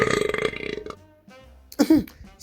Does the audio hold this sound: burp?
yes